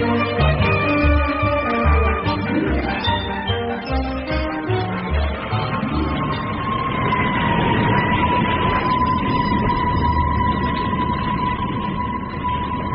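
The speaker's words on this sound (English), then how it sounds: "Sirens race through the night to a warehouse blaze on the Lower East Side." Loud sirens wailing and rising in pitch over a low rumbling engine, racing through the night toward a warehouse fire, sweeping past and holding a long steady tone toward the end.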